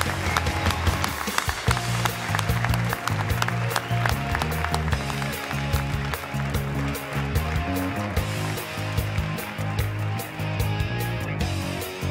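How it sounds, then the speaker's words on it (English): An awards-ceremony audience applauds student academic champions with dense, sustained clapping that fills the hall evenly, with faint voices mixed in beneath the crowd noise. "let's give all of our academic champions a great round of applause"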